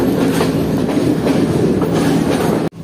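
A train passes on a railway near a station in Sri Lanka, producing a loud, steady close rumble with a faint rhythmic clatter of wheels that cuts off abruptly near the end.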